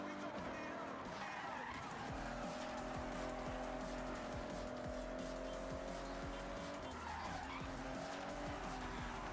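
Toyota Supra in the racing game Forza Horizon 6, engine droning steadily while tires skid and squeal through much of the run, with a voice talking faintly underneath.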